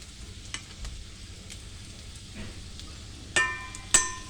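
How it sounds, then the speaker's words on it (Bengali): Potatoes frying in oil make a soft, steady sizzle throughout, joined by a few louder clinks of a spatula near the end. "আর এখানে আলুগুলো ভালো করে ভেজে নেবো লাল লাল করে"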